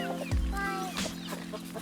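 Chickens on a homestead cluck and fuss close by, with a brief low thump among the calls and a steady background hum under them.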